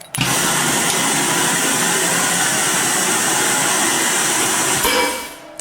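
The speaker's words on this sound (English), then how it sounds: "So you can hear the pump starts." A Piab piFLOW vacuum conveyor pump starts with an abrupt onset into a loud, steady broadband roar and hiss that holds for several seconds, then cuts off sharply, with no talking.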